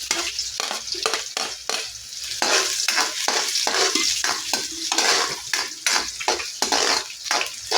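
Garlic and onion sauté in a pan, a busy close sizzle broken by frequent metal spatula scrapes and clanks against the pan in a quick, uneven rhythm, no voices.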